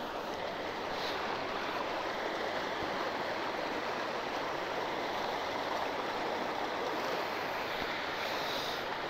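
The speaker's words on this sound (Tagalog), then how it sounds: "Dito running water din siya." Clear water of the Nambalan River in Mayantoc, Tarlac runs in a constant broadband rush, steady and fairly close with no breaks.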